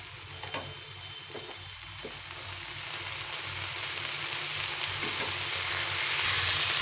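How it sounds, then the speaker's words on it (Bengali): A dried red chilli fries in hot oil with a steady crackling sizzle and a few spatula scrapes. The hiss swells louder toward the end, close and without voices. "তেল দিয়ে ভেজে নিতে হবে।"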